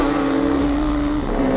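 A loud drag-race engine from the motorcycle, ATV and snowmobile final drones with a steady high tone that dips briefly near the end and then returns.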